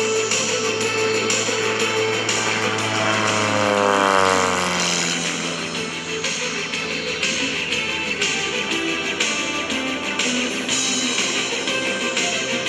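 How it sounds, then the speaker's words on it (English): A modified Pitts Special Ultimate aerobatic airplane with over 300 horsepower roars steadily at an air show, its engine pitch sweeping as it rolls inverted and pushes around a turn, loud and continuous with no talk. "That's the sound of 300 plus horsepower as he rolls the airplane to inverted and is pushing around the turn."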